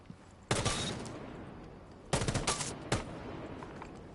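Video game gunfire: three rapid bursts of automatic shots, sharp and loud, separated by short pauses, with no talking.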